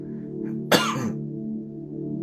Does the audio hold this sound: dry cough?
yes